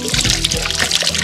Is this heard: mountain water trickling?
yes